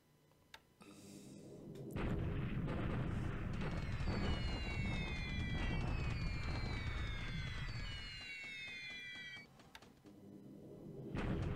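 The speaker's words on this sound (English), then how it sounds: "Bombing the British tanks." Bombing strikes land on British tanks in a World War II strategy game, a long rumbling burst of explosions with whistling falling tones over a dense roar, fading before a final thud.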